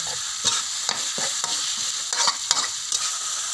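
Minced pork is stir-fried in a pan with wild mushrooms, the spatula scraping in quick repeated strokes over a constant close sizzle.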